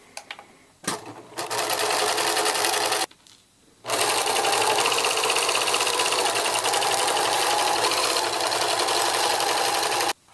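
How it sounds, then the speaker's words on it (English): Sewing machine running a straight stitch down the pinned edge of a fabric tube for a pillowcase: a steady, close whirring hum in two runs, with a short pause between them. "you'll just take your tube, use just a straight stitch, make sure it's not too big, and just sew down the edge that you pinned"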